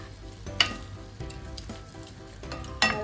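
Garlic and onion sauté in a pan for beef bulgogi, a steady close sizzle with a spatula scraping and tapping the pan every second or so.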